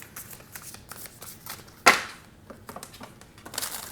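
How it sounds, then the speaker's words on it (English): Tarot cards are shuffled and pulled from a deck, giving soft rapid riffling and flicking close up, with one sharper snap partway through. "Let's pull some cards from here."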